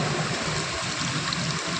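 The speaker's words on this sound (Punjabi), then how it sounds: "ਇੱਥਾ ਜ਼ਮੀਨ 'ਚੋਂ ਪਾਣੀ ਨਿਕਲਿਆ ਕਰਦਾ ਆ" Spring water welling out of the ground in a village, a dense continuous rushing and gurgling flow, close and fairly loud, with no voices.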